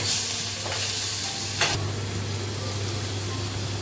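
Onion paste frying in oil in a pan for egg dopeyaja, after cumin, cardamom, cinnamon and green chillies, a constant close sizzle with a couple of brief stirring scrapes, no voices.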